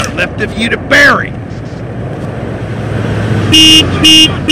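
Car horn honking in the video game GTA San Andreas, three short loud beeps near the end over steady engine and road noise, after a brief voice and a squeal early on.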